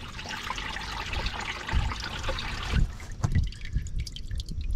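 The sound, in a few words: oil dripping from Caterpillar 977 track loader drain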